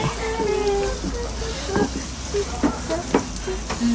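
Food sizzles steadily on a backyard barbecue grill at a Sunday family gathering, a continuous crackling hiss. Voices chat nearby over it.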